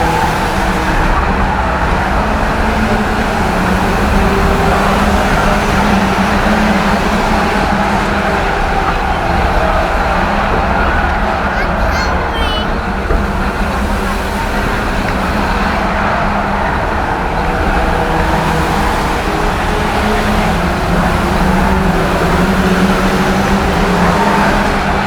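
Race car engines roar loudly and steadily during a stock car race at Cowdenbeath, a dense, continuous mechanical drone with no pauses.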